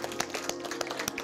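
Short burst of applause at a school culture event, scattered hand claps heard at a distance and fairly faint, with irregular individual claps standing out.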